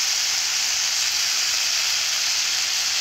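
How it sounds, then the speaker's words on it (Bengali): Bethua greens sautéing in a pan: a steady, loud sizzling hiss of steam and frying that holds evenly throughout with no talk. "এইভাবে কিছুক্ষণের জন্য কষে নেব"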